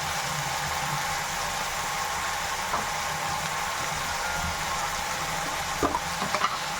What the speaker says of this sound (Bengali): পেঁয়াজ দিয়েছি, তেল দিয়ে পেঁয়াজ, কাঁচা লঙ্কা, টমেটোর কুচি সব দিয়েছি